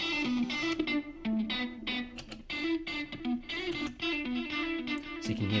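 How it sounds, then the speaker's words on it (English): An electric guitar plays a repeating riff with heavy distortion and echoing delay, its tone shifting between passages, loud and upfront with no talking. "You can hear the delay features changing, the distortion features, and even the amp type."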